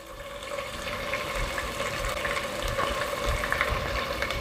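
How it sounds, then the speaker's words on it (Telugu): Ginger garlic paste sizzles steadily in a hot pan with browned onions, a dense, close frying hiss with small crackles throughout. "ఈ అల్లం వెల్లుల్లి పేస్ట్ని పచ్చివాసన పోయేంత వరకు ఫ్రై చేసుకుందాం"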